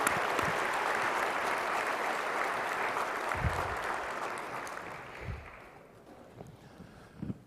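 Sustained applause from a banquet audience at a state workforce awards ceremony, a dense steady wash of clapping that slowly fades over several seconds, with a few scattered louder claps near the end.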